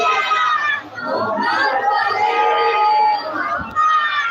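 A congregation at a Shia majlis loudly chants salawat together, a dense crowd of many voices rising and falling in unison, continuous and close, filling the hall throughout.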